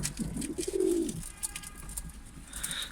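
Pigeons on a balcony give a short low coo near the start, fairly close but soft, followed by quiet background with faint chirps.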